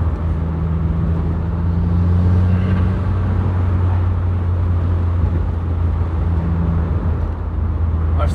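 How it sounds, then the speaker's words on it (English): A car fitted with an Invidia catback exhaust drones steadily from inside the cabin, a low exhaust rumble dominating over the engine with a slight pitch shift during a downshift, continuous and fairly loud without speech. "you can hear the exhaust more than you can hear the engine"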